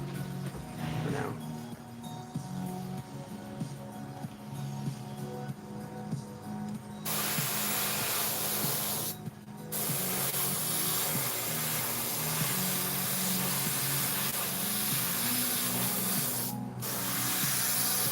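Paint spraying at high air pressure onto a Black Panther piece, a loud continuous hiss that starts partway in and runs steadily with two brief pauses, close and dominant.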